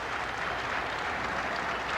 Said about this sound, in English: Gets a nice hand from the crowd here in Altoona.